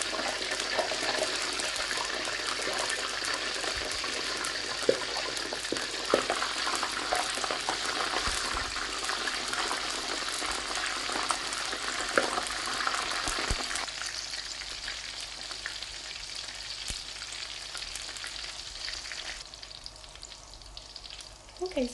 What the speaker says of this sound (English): just gently put the samosas in